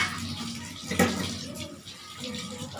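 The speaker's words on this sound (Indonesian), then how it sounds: "sini kita akan menyikatnya dengan menggunakan deterjen ya. Setelah itu dicuci dengan bersih." Lab equipment is rinsed under running water after being brushed with detergent; a steady splash of water from a tap runs throughout, with a louder knock or splash partway through.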